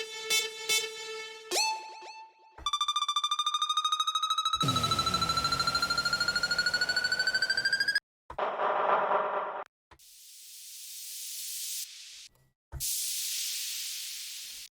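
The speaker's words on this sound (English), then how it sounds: "Bunch of you know, white noise, transition, stuff that when you add it to your songs, it makes a difference" Sequence of electronic transition effects for songs: tonal hits, a long rising sweep, then separate bursts of bright white-noise whooshes swelling and cutting off, clean and isolated.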